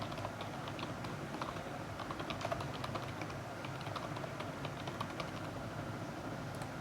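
Steady computer keyboard typing that runs close and continuous, with dense overlapping keystroke clicks and no voice over them.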